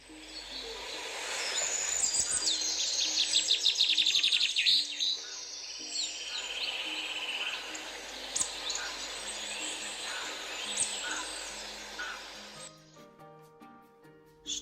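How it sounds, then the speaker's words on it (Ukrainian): Dense birdsong and chirping fill an autumn forest soundscape, with a steady insect hum beneath; calls overlap continuously before thinning near the end. "У лісі ми можемо почути звуки комах, птахів, диких тварин."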